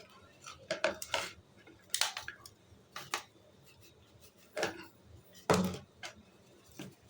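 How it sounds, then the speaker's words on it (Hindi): A fork scraping and tapping against a sieve or bowl while ground powder is sifted, a few sharp metallic clinks and scrapes spaced irregularly, close and fairly quiet. "कांटा लेकर आपने इस तरह से इसको छान लेना है"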